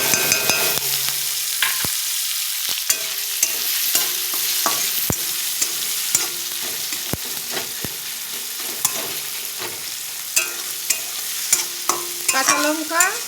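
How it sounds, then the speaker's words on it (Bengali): Mashed boiled onion, garlic and green chilli fry in oil with cumin seeds, giving a steady hiss and sizzle broken by repeated sharp scrapes and taps of a spatula stirring in the pan. "কাঁচা লঙ্কা, গোটা পেঁয়াজ আর রসুন সিদ্ধ করে থেতলিয়ে নিয়েছি, সেইটা এখন একটু ভাজা ভাজা করব"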